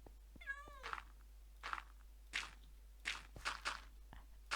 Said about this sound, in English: With the cat stuck crying in the dark